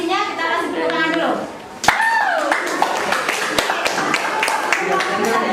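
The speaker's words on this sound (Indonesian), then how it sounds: "Kita kasih tepuk tangan dulu." Classmates clap for a group that has just finished presenting in a classroom, a scattered run of sharp claps under a voice and talk, starting after a brief pause.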